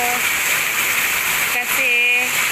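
Heavy rain pours in a steady, loud hiss, with short tonal chirps and a brief break partway through, heard near a barred window.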